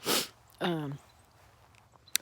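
A single close, loud sneeze bursts out right at the start, followed by a short voiced exhale or sniff, then quiet outdoor background with a faint click at the end.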